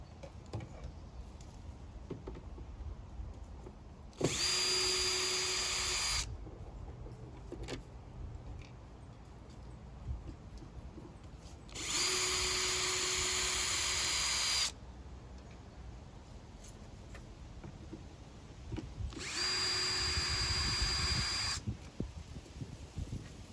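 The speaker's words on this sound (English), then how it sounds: "Have 4 more screws I need to take out." A power drill backs screws out of a vintage 1980s Korg Poly-61 synthesizer, sounding in three separate whirring bursts of about two to three seconds each, close and loud, with quiet pauses between them.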